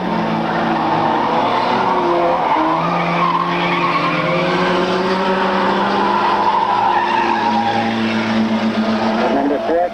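Race cars at a 1997 track event roar past together, engines whining and droning in a dense, continuous wall of sound with shifting pitch, loud and close, while an announcer talks over it.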